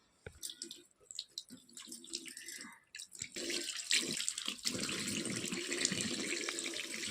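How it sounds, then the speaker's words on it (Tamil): Tap water runs into a sink while a face mask is rinsed off, starting as scattered splashes and drips, then settling into a steady, fairly loud stream that continues to the end. "நான் ஃபேஸ் வாஷ் பண்ணிவிட்டு உங்களுக்கு காட்டுறேன்"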